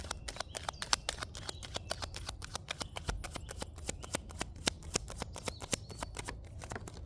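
A deck of tarot cards is shuffled close by in a quiet room, producing a quick, rhythmic run of crisp riffling snaps and flutters that continues steadily throughout at low volume.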